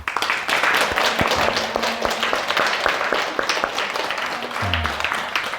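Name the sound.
audience applause of thanks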